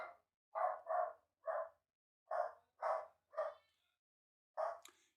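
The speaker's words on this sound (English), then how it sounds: "Don't worry about the dog." Dog barking in a house during a live AFL match watchalong, seven sharp, evenly spaced barks in two bursts, loud and close with no talk over them.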